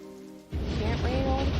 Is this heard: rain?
yes